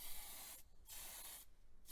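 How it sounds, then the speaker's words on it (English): Two bursts of spray paint hiss from an aerosol can onto a small toy model car body, each a steady hissing blast with a brief pause between them, close and fairly quiet. "Just shake up the can and get to spraying."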